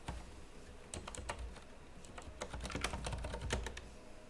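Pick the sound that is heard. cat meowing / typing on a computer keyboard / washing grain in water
typing on a computer keyboard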